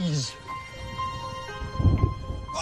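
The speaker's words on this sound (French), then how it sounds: "Écoutez un peu ces grondements de tonnerre." Low thunder rumbling during a thunderstorm, a deep roll swelling near the end beneath sustained tonal sounds, fairly close and moderately loud.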